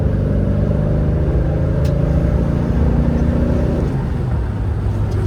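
An unrestored, all-original 1973 Chevrolet Monte Carlo accelerates down the road, its loud engine roar climbing through the gears with a brief dip as it shifts, heard up close with no voices.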